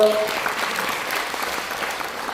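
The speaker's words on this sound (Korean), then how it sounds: "박수 부탁드립니다" Audience applause at an academic symposium in a library auditorium, a dense even patter of clapping from many hands that holds steady throughout.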